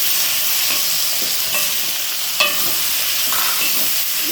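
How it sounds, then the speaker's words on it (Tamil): Citron pieces stir-fried with golden sautéed onions in a pan crackle with a steady sizzle, broken by a few spatula scrapes and one brief clink midway. "இப்போ நார்த்தங்காயை அதோடு சேர்த்துருவோம்."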